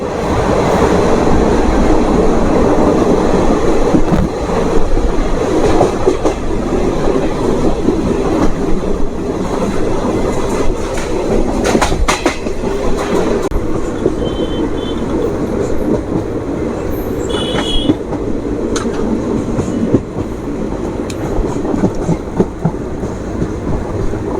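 Azimganj–Howrah Kaviguru Express 13028 running between stops toward Morgram, a steady loud rumble of wheels and carriage rattle with rhythmic clatter throughout, no voices.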